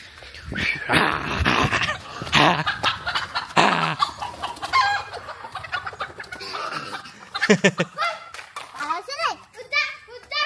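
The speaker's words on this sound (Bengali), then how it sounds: "কতগুলা মুরগি আসছে" Chickens cluck and squawk in bursts, nearby and fairly loud, while children talk and a dog is heard in the mix.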